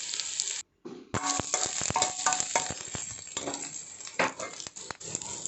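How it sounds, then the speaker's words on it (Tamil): Onions, green chilies and curry leaves sauté in a hot pan for a Tamil-style egg gravy, sizzling steadily while a spoon scrapes and knocks against the pan in sharp, irregular clicks, with one brief lull early on. "வெங்காயம், பச்சை மிளகாய், கருவேப்பிலையில் போட்டு இதை நம்ம நல்லா வதக்கி விடணும்."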